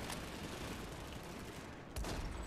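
Dense, continuous gunfire from a firefight in the online shooter Planetside 2, with rapid overlapping shots running steadily and a fresh loud burst near the end, without any talking.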